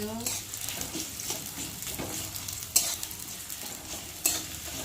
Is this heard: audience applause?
no